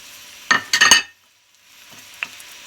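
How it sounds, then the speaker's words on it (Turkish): Onions are dropped into half a tea glass of hot oil in a frying pan, bursting into a loud sizzle with stirring clatter, then a quieter, ongoing fry with occasional pops. "Şimdi yarım çay bardağı yağımı tavama koydum. Soğanlarımı koyuyorum."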